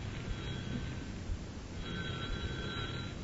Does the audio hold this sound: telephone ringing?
yes